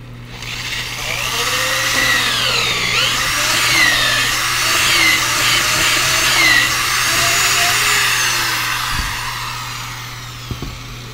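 A power drill grinds steadily through about 4 inches of doubled wooden 2x4s in a top plate for several seconds, its pitch rising and falling under load, followed by a couple of knocks.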